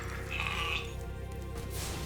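A goat in the video game Spyro Reignited Trilogy bleats once, a clear wavering cry over steady game music, lasting most of a second.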